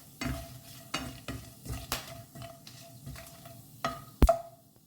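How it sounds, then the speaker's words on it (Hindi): Cloves and bay leaves frying lightly in oil, with a soft steady sizzle broken by repeated spoon scrapes and stirs against the pan and a sharp metallic clink near the end. "हल्का से इसे हम भून लेते हैं"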